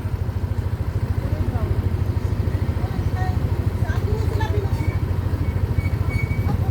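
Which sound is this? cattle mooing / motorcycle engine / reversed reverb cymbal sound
motorcycle engine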